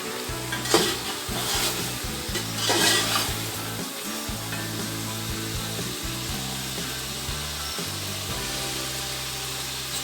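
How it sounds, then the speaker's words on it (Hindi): Beef with green chilies stir-fried for pulao, a steady loud sizzle with repeated scraping and clattering of a spoon against the pot, a few sharper knocks early on, no talking. "इसको थोड़ा सा भून लेना है"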